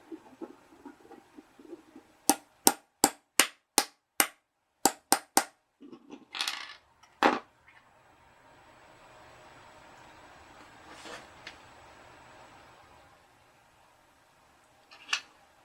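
A small hammer taps a loose wheel onto a shaft during the rebuild of an Atlas Santa Fe model locomotive. About ten sharp, close metallic taps come in a quick run, followed by some handling clatter and one final tap.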